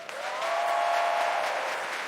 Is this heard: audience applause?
yes